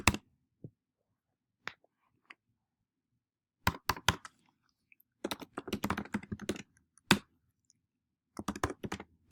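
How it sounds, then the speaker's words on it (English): Keys clacking on a computer keyboard as an email address is entered, in short scattered bursts of quick taps with pauses between, close and fairly quiet with no talking. "Then I type in my email."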